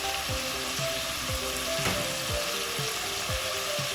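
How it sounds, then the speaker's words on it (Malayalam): Onion sautés with chili powder, turmeric, black pepper and dry ginger powder in a pan for Moroccan couscous. A steady, close sizzle of frying runs throughout, with soft scraping stirs breaking in rhythmically. "ഇതുകൂടി ചേർത്ത് നന്നായി വഴറ്റിയെടുക്കുക"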